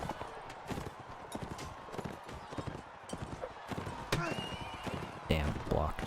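Horse hooves clip-clop in a steady, rapid rhythm during a tournament in the video game Mount & Blade: Warband, running under continuous talk, with a few sharper impacts toward the end.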